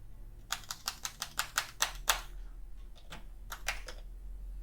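Rapid keystrokes clatter on a computer keyboard, a quick run of about ten crisp taps, a short pause, then another burst of clicks, close and clear over a faint low hum.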